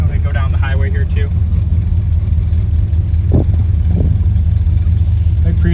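A 1972 Dodge Dart Swinger driving at about 25 to 35 mph, its engine a steady low drone heard from inside the car, with brief speech over it.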